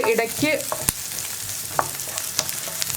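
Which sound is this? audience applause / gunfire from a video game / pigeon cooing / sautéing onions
sautéing onions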